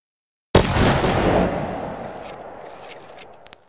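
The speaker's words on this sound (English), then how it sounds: "Volley fire with crouching front row." A musket volley from a crouching front row in Mount and Blade 2 Bannerlord erupts as one loud, ragged burst of many shots after a short silence, then rolls and decays into a long echoing tail with a couple of late pops.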